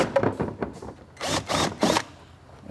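A power drill bores a hole through plastic during a Yamaha YXZ radiator kit install, with several short whirring bursts separated by pauses, loud and close.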